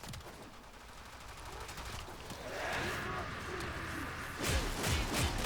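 Combat in the Warframe video game against a group of corrupted heavy gunners, with a dense wash of game gunfire and impact effects that swells in the middle and ends in several heavy bursts.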